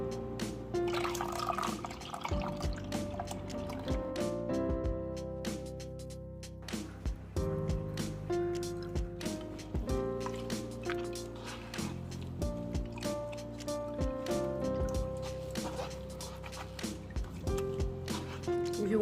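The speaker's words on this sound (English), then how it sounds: "we're gonna be sieving our Folere right now. Our sorrel drink, so we can get rid of all the particles." Sorrel drink, also called folere or zobo, made with ginger, being poured through a sieve to strain out particles, with dripping and trickling liquid and intermittent splashes and clinks up close for about nineteen seconds.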